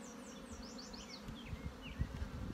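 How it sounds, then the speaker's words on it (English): Honey bees buzz close by and continuously around a nuc hive box during a cold spring brood nest inspection, a steady dense drone with faint handling noises underneath. "Now this is a box of bees, so she has all the bees in the world that she needs"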